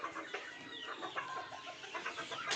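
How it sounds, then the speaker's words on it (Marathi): Home-incubated desi village hens cluck steadily in a farmyard, a busy overlapping chorus of short calls at close range with no talking. "ही आहेत आपली होम इन्क्युबेटरद्वारे तयार केलेली गावरान कोंबड्या."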